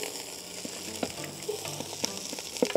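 Chopped onion, half a large one, hits a pan of smoked sausage that has already cooked about two minutes, set up outdoors for a chicken and prawn jambalaya. A steady close sizzle runs throughout, with brief stirring clicks and scrapes and no talking.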